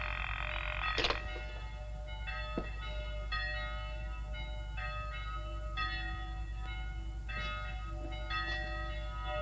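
Town bells ringing out to summon people to the town hall in a 1952 film: repeated metallic bell strikes with long ringing tones, moderately distant and steady over a low continuous rumble, with no voices.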